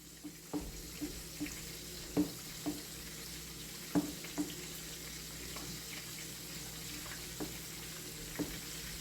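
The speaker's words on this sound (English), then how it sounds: "While this chicken is frying right here, we're going to be stirring our raspberries." Chicken fries quietly in a pan while raspberries are stirred on low heat nearby, with a soft continuous sizzle broken by several sharp utensil clinks and taps spaced irregularly.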